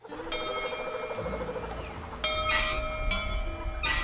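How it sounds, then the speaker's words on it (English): A school bell in the small town of Trundle, Australia, rings out in repeated strikes, each leaving long metallic overtones that hang in the air, with faint outdoor ambience underneath. "The bell rings out over the tiny town"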